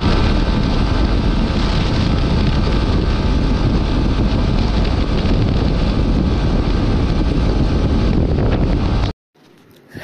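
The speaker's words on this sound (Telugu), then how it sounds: "ఓన్లీ బైక్ ఎగ్జాస్ట్ సౌండ్ తప్ప ఏం వినిపించలే నా మాటలు" Motorcycle exhaust roaring during a highway ride, a loud, dense, continuous rumble blended with heavy wind buffeting that cuts off abruptly near the end.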